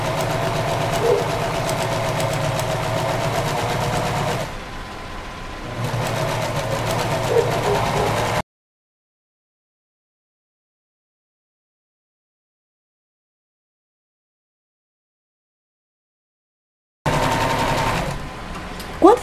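A sewing machine runs steadily up close while stitching a seam along a fabric hair headband, slowing briefly, then the sound drops to silence before the machine resumes near the end.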